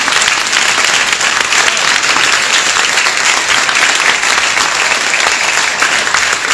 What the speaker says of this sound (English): Let's give Michael Gates a big round of applause.